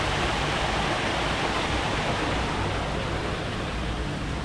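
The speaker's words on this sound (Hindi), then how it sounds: "ये यहाँ से थोड़ा सा पानी जो है वो गिर रहा है वाटरफॉल।" A small waterfall in Glasgow gives a steady, full rush of falling water, an even broadband roar without pauses, close by and unbroken by voices.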